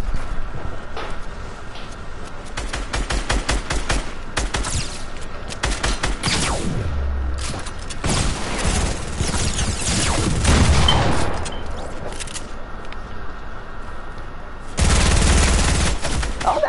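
Rapid bursts of video game gunfire as players shoot each other in a multiplayer lobby, loud volleys of automatic fire and single shots throughout, with brief pauses and heavier blasts near the end.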